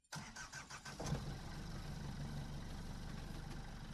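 A boat's engine catches and settles into a steady, rumbling run after being repaired, preceded by a few quick cranking bursts, loud and close with no talking.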